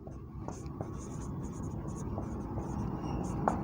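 Pen or marker scratching steadily across paper or a board while working a Class 10 polynomial maths problem, a continuous close scraping texture with a few sharper strokes, no voice over it.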